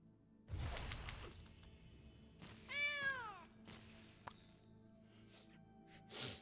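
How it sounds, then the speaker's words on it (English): A cartoonish cat meow and yowl from the Long Tusk Cub card in a Magic: The Gathering digital game, rising and falling in a few bright swoops amid clattering card effects and a sharp thunk, loud and close. "did you hear the cat sound for the Long Tusk Cub?"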